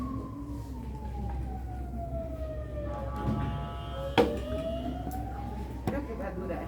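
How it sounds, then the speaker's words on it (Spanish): An emergency vehicle siren wails past outside during a children's lesson, its rising and falling tone sweeping steadily over a background murmur, with a couple of sharp knocks nearby. "Un ratito, que se pase la sirena."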